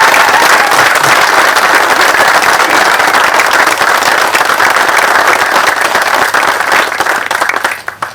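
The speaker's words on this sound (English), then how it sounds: "Massive round of applause." A festival audience gives a loud, sustained round of applause after a presentation. Dense clapping fills the space throughout and fades slightly toward the end.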